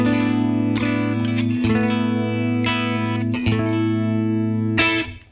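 Clean electric guitar chords through a Fender Twin Reverb amp ring out with sustained, shimmering tones and light reverb, strummed a few times in a relaxed rhythm before fading at the end.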